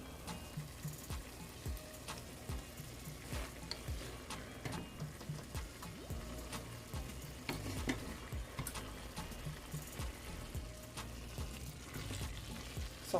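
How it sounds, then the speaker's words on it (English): A spoon scrapes and taps softly and irregularly against a pot as simmering chickpeas and saltfish run down are stirred. The sound is faint and close, with a low bubbling underneath. "So now you're gonna give it a little stir."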